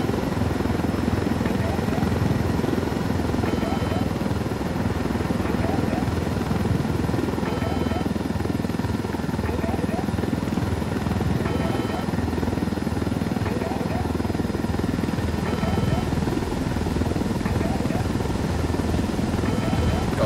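A damaged helicopter flying in the Ghost Recon Wildlands video game, its rotor chopping in a loud, continuous, rhythmic thrum throughout, with engine drone underneath.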